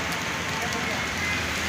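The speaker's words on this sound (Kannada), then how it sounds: "ನೋಡಿ ಎಷ್ಟು ಜೋರು ಮಳೆ ಬರ್ತೈತೆ." Heavy rain is falling hard near a shop in Mangaluru, making a dense, loud, steady wash of noise that fills the short moment.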